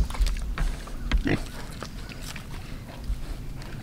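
Pigs grunting and snorting close by in a muddy outdoor pen habitat, irregular low bursts with some splashing and rustling movement throughout.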